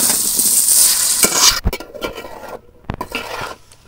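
Chicken and green beans stir-fried in a pan, a loud close sizzle with scraping stirs that fades into sparse clatter and softer crackling.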